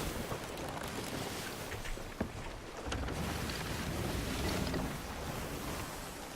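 A sailing ship at sea in Sea of Thieves, with steady rushing water and wind noise at a low, even level and no speech.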